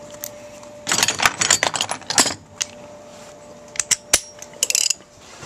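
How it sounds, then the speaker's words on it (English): A 3/4 inch socket on a ratchet drives a trailer hitch bolt into a 2006 Jeep Commander, giving bursts of rapid close clicking in quick runs with short pauses between them. "I'm actually going to ratchet this in. To do that, we are going to use a 3/4 inch socket."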